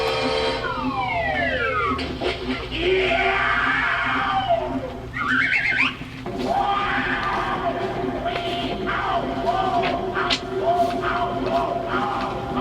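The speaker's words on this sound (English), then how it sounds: "That's not how I yell in pain." Cartoon big bad wolf yelling in pain after sliding down a chimney into a kettle of turpentine over a fire: loud, wailing, siren-like cries rising and falling over busy orchestral music, with brief breaks.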